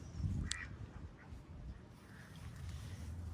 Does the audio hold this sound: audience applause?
no